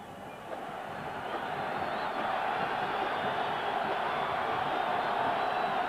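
A football stadium crowd at a Kansas at Colorado game in 1991 roars steadily from a distance, building slightly as fans cheer on the CU defense, with no clear talk.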